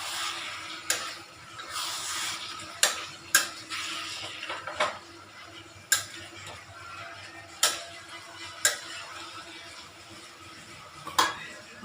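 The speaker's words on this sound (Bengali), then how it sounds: "কড়াইতে করে মাংস করছি, মশলা সব মিক্সচারে করেছি।" Goat meat marinated in yogurt and spices cooks in a wok, with a soft sizzle broken by sharp clinks and scrapes of a utensil against the pan at irregular intervals, fairly quiet and close.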